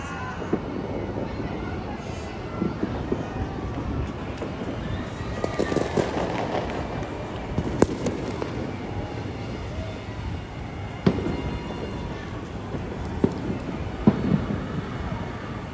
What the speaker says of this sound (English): we could hear fireworks all over town